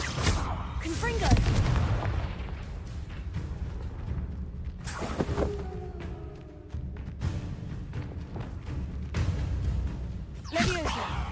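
Fiery Confringo spell blasts in the Hogwarts Legacy game, repeated booming explosions with whooshing bursts over a constant rumbling combat background, fairly loud and dense throughout.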